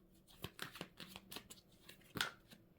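Tarot cards being drawn from a deck and laid out on a table: a series of soft slaps, flicks and brushing sounds at an uneven pace, close and fairly quiet, with one sharper snap near the end.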